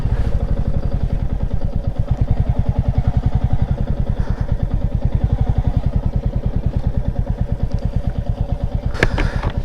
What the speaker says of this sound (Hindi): बाइक अपन अंदर ही ले जाते हैं।